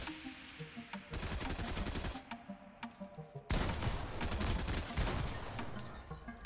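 Rapid bursts of gunfire from a Fortnite battle royale match, sustained and fairly loud, with a heavier, denser volley in the second half and no talking.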